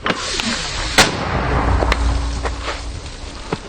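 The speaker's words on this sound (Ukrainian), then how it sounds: "постріл" Sharp distant gunshots crack several times at irregular intervals over a steady rumbling outdoor background, in combat near Bakhmut.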